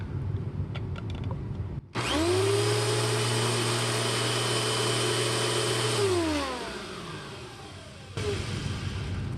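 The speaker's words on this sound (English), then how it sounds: "So let's see what this does for nozzle suction. Bag is in, brush roll spinning." A 2000 Dirt Devil Featherlite vacuum cleaner with its brush roll spinning starts up abruptly, runs with a loud steady motor whine for about four seconds, then winds down as its pitch falls.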